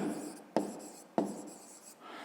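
Pen or chalk writing out arithmetic for a fifth-grade maths exercise: a steady scratchy stroke sound broken by two sharp taps, close and fairly quiet, with no voices.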